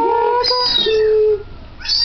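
A kitten meows loudly and close, drawn-out wailing cries broken by a short pause, then another rising meow.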